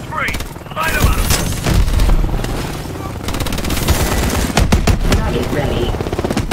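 Rapid automatic gunfire and heavy booms from a Call of Duty: Advanced Warfare firefight, loud and close, in dense rattling bursts with radio-style voices talking over the shooting.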